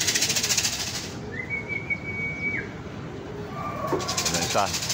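A few short bird calls and whistles sound over a busy outdoor background of rustling noise, with faint voices nearby.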